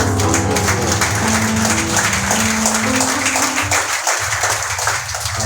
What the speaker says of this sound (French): Applaudissons les Seigneurs très fort, très fort, très fort.